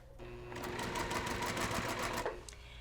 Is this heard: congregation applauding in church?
no